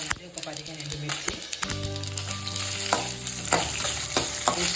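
Dried red chillies, about fifteen of them, frying on a low flame with stirring: a steady close sizzle broken by clinks and scrapes of the spoon, with some voice and sharp taps near the start.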